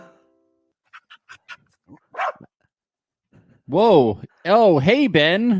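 A dog in the room during a podcast gives a few short yips, then loud, wavering, drawn-out whining barks close to the microphone, with a person briefly exclaiming and talking in between.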